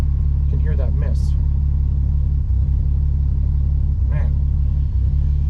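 A 1965 AMC Rambler American 440 engine idles loudly and roughly, its low rumble broken by uneven stumbles from a misfire. The sound is close up, and someone says a brief word over it.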